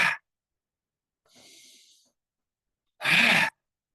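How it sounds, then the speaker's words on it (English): Slow deep breaths during a guided breathing exercise: a short exhale, then a faint drawn-in breath, then a louder forceful breath, separated by silence. "Breathe in."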